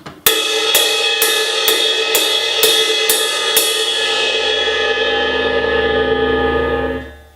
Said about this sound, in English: So the edge of your ride sounds like this.